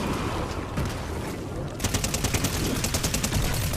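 Gunfire in the Fortnite video game: scattered loud shots, then a rapid, evenly spaced volley of bursts that crackles continuously to the end.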